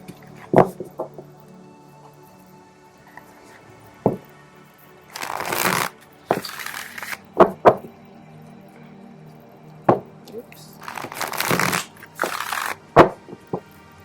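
A deck of cards being shuffled by hand, with several bursts of riffling and bridging, crisp and close, separated by single taps and card snaps, and no talk over it.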